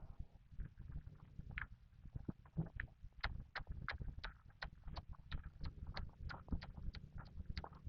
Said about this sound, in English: He's really smart and a willing horse